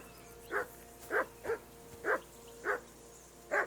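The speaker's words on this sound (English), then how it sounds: "that barking's driving me nuts" A dog in the medieval role-playing game Kingdom Come: Deliverance barks six times in an uneven rhythm, moderately close and fairly quiet, with no talk over it.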